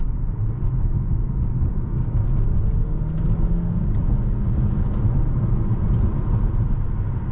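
Alfa Romeo Tonale with a 6-speed Aisin gearbox driving and shifting gears, a steady, loud low engine and road rumble throughout with no talk.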